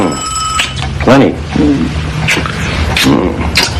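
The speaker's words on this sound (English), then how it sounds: "The phone." Telephone bell ringing indoors in a home, a steady electronic ring at the start followed by intermittent ringing, with background hum and some voices underneath.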